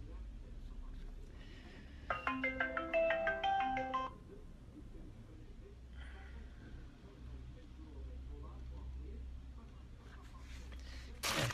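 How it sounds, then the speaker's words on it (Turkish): A mobile phone plays a short melodic startup chime after being switched off and on, heard once near the start over a low background hum, followed by quiet room noise. "Telefonu kapatıp tekrar açayım."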